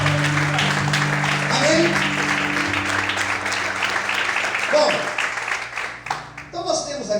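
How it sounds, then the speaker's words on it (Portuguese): A church congregation applauds during an evening service, with dense, steady clapping that thins out toward the end while a voice speaks over it. "Quem acredita, glorifique e aplauda ao Senhor na noite de hoje"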